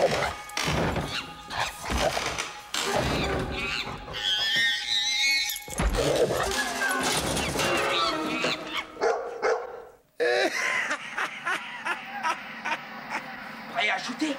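Barks from a dog in a French-dubbed basketball film, scattered over lively speech and music, with thumps and crowd noise around them.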